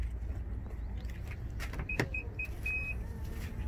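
Power-folding third-row seats in a 2017 Nissan Armada Platinum move with a low, steady motor hum inside the cabin, broken by a sharp click and a series of short, evenly spaced electronic beeps.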